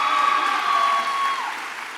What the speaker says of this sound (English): You deserve a big round of applause for your excellent work.